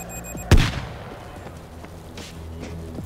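Explosives detonate in the zombie shooter World War Z Aftermath: one sharp, loud blast followed by a rumbling decay, with quieter game ambience and distant pops afterward.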